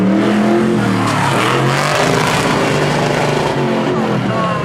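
A pickup truck tears through an autocross lap at a car show, its engine loud and close with steady revving and shifting pitch, tires scrabbling as it slides through corners, a voice faintly underneath.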